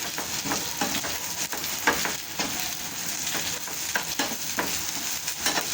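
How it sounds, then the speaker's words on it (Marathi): Sliced onion fries in a pan with other ingredients as a spoon stirs it, producing a continuous close sizzle broken by regular scraping strokes. "सगळं एकत्र मस्त भाजून घ्यायचं आहे आपल्याला"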